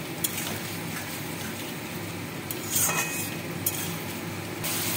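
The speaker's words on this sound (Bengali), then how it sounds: "হলুদ, চিনি, লবণ। মশলাটা কষিয়ে নেব।" Spice paste with turmeric, sugar and salt is sautéed in a pan, a soft steady frying hiss broken by a few scattered clinks and scrapes of a spoon against the pan.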